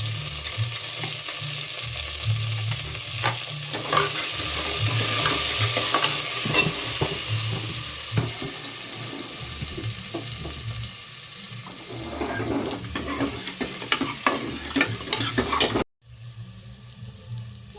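Chopped onion sautéing in a pan sizzles and crackles under repeated spatula scrapes, with a rushing stretch like running water partway through, then the sound cuts abruptly near the end; no voices.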